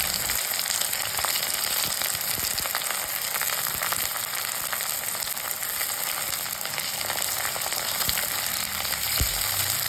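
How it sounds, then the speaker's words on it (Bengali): Chopped onions, green chillies and garlic paste fry in hot oil in a kadai with a dense, loud, continuous sizzle and crackle, close up, with occasional stirring taps underneath and no talking. "কড়াইয়ে তেল ভালো করে গরম হয়ে গেলে এর মধ্যে দিয়ে নিব কেটে রাখা পেঁয়াজ কুচি, এরপর কাঁচা লঙ্কা, এরপর রসুন বাটা"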